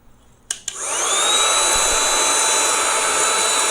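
A portable mini vacuum cleaner for home and car use clicks on after two quick knocks, then spins up into a steady, loud, high-pitched whine that runs on alone.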